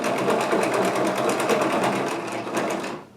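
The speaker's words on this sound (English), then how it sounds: "For now, I'm just gonna continue sewing" A sewing machine stitches strips of old clothes together into a homemade rug, running loud and close in a steady, continuous rapid whir that holds for about three seconds before cutting off.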